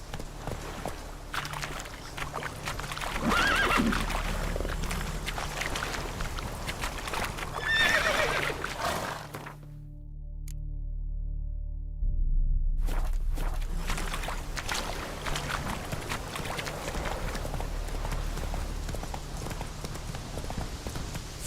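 A horse in the video game Witcher 3 trots with steady clip-clopping hooves and lets out whinnying neighs, close up over an ambient outdoor backdrop, with a brief quiet gap midway.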